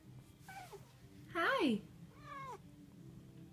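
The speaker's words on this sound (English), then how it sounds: "he's like talking and meowing and stuff" An indoor house cat meows three times in rising and falling chirpy calls, the middle one loudest and longest, over a quiet room hum, with a person briefly speaking.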